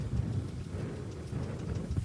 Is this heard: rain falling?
yes